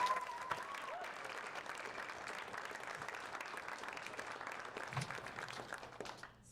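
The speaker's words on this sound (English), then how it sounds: "can we just give all these founders a round of applause?" Audience applause at a pitch competition in Austin, steady clapping from a crowd heard at a distance and fairly faint throughout.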